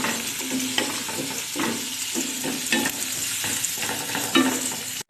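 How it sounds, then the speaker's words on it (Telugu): Onions and green chillies for poha upma are stir-fried in a hot pan, a steady sizzle broken by repeated scraping stirs and a few sharper clicks of the spoon against the metal. "ఉల్లిపాయలు పచ్చిమిరపకాయలు బాగా వేగేలాగా వేపించుకోవాలి. బాగా వేగేదాకా బాగా కలుపుకోండి"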